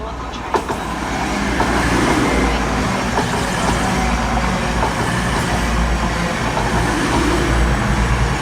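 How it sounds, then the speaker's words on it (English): A Class 222 Meridian diesel train pulls into a platform at Market Harborough station, a steady low rumble of engine and rolling wheels building slightly and holding throughout, fairly close with no talk. "Got a Class TTT Meridian coming into platform 2 and going south from Market Harbour"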